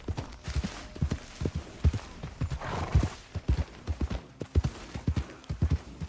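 Horse galloping in the Red Dead Redemption 2 video game: steady, rhythmic hoofbeats thud close and loud throughout, with a brief burst of louder noise partway through.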